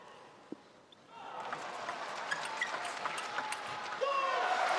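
A home crowd claps at a table tennis match at the 2017 World Championships, a dense, steady patter of many hands rising after a quiet start and holding through to the end, heard from within the arena.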